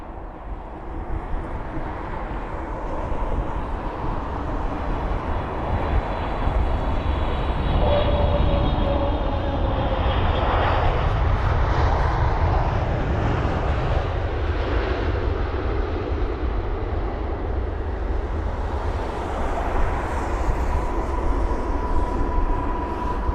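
An airliner in special Formula One livery at Heathrow produces a loud, continuous engine roar that swells toward the middle and stays broad and steady, with no voices.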